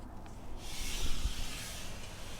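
A steady broadband whooshing hiss from a Centromatic continuous tire and wheel balancer spinning on a 2014 Dodge Ram 2500, moderately loud and continuous, with faint low rumble beneath.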